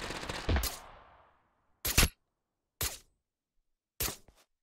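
Gunshots in Totally Accurate Battlegrounds, a burst of rapid fire followed by three separate sharp single shots spaced about a second apart, loud and close with silence between.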